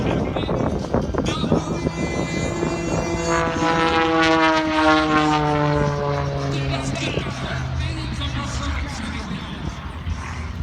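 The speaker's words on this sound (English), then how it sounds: "This is going to be an inside loop with the cherry on top." Aerobatic propeller airplane flying an inside loop at an air show, its engine drone rising and falling in pitch as it climbs and dives, loud over a constant crowd and wind wash, with an announcer talking over it.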